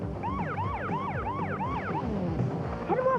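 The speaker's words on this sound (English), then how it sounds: "Hit the siren." Toy Matchbox police car siren wailing in rapid repeating up-and-down sweeps, loud and close, cutting off after about two seconds into a brief electronic chirp.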